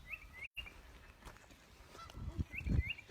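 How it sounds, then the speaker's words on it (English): Farm ducks give a few short honking calls amid outdoor background noise, with a closer rustling burst near the end. "I love my ducks."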